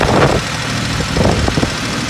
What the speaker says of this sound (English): Here we have a Farm Pro 2425 four-wheel drive tractor. I started it right up.